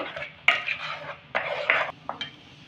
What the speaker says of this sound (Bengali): গ্যাসটা কিন্তু আমি মিডিয়ামে রাখবো, আর অনবরত কিন্তু নাড়াতে থাকবো।